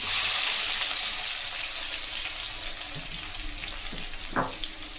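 Large onions fry in hot oil for a brinjal thokku, giving a continuous bright hiss and crackle up close, with a few soft knocks from a spoon stirring the pan near the end.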